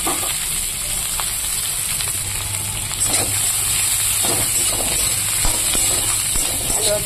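Potato and bitter green banana pieces, salted and drained, fry in hot oil with a steady close sizzle and hiss that swells slightly partway through, with no talking.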